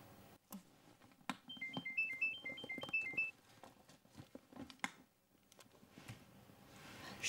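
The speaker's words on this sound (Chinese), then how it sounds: "电话响。" A telephone plays a short, melodic electronic ringtone pattern that repeats a few times, faint and somewhat distant, amid soft room noise and scattered clicks.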